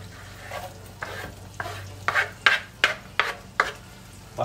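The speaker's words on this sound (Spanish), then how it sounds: "Así que vamos a cocinar un poco el ajo y la cebollita." Garlic and onion frying in a pan for a shrimp dish, low sizzling under a steady series of sharp utensil scrapes and stirs, close and fairly loud.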